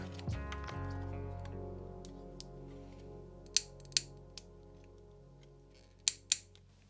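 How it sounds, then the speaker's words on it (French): Scissors snipping small brass solder pieces for making brass heart earrings: several sharp, close clicks spaced apart, with a pair near the end, over a steady low hum. "Là, je vais venir découper des petits paillons."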